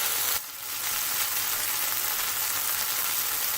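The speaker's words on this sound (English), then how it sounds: "So come to a nice sizzle." Prawn puri curry sauce sizzles loudly in a pan, a steady bright hiss that dips briefly near the start and then runs on evenly and close, with no voices.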